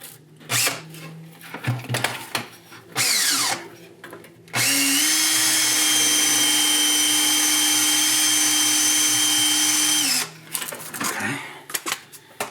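A power drill bores holes for a battery conversion on a 2006 Club Car DS 48-volt electric golf cart. Two short whirs come first, then one long steady run of several seconds, with handling clatter between.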